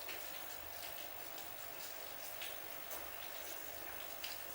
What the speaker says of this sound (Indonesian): Tidak ada lagi suara lain selain hujan.